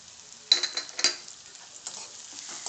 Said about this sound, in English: I saute it for a minute or so on a high flame